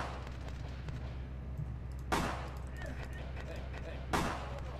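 Two loud gunshots ring out about two seconds apart in Vampire: The Masquerade – Bloodlines, each a sharp broadband crack with a short decay, over a steady low hum and quiet game ambience.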